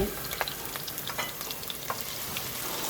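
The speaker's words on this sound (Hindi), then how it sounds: "ये देखिए ये मैंने प्याज लिए, इसको बारीक बारीक काट लिया है, इसको मैं फ्राई करूँगी और फ्राई करके निकाल लूँगी" Two medium-sized onions, finely chopped, fry in a pan for a galavat qeema recipe, giving a steady close sizzle with scattered crackles and occasional stirring scrapes, no voices.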